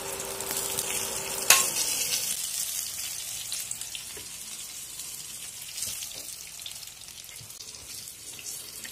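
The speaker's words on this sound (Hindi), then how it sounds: "देखिए पूरी अच्छी तरह से फ्राई हो गया है" Eggplant fries in a pan for baingan kalonji, a steady close sizzle with occasional stirring clicks after a brief metallic clang near the start.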